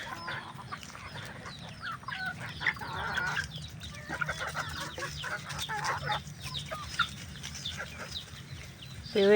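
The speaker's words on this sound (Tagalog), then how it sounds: "Maghintay kayo, mga manok." Farm chickens cluck and squawk near a goat, a busy flock giving repeated short clucks and calls at close range, sometimes overlapping, with a burst of louder noise at the end.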